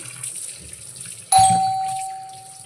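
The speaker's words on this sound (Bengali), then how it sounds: "তাহলে চলুন মাছগুলো আমি ধুয়ে নিই" Small live katla fish are washed in water in a kitchen, with soft splashing followed by a sudden metallic clang that rings on and slowly fades, like a bowl or vessel being struck.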